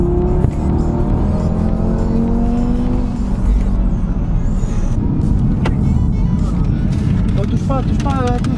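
Audi RS3 engine accelerating, loud and close from inside the car, with rising tones climbing through the gears and a constant road roar beneath.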